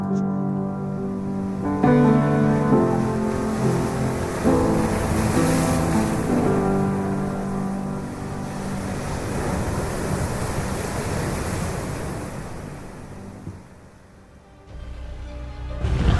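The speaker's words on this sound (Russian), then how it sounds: "Это то место, где самые высокие волны." Atlantic Ocean waves at Nazaré, a broad, loud wash of surf that swells and recedes, mixed with wind buffeting the microphone and a tonal motor hum.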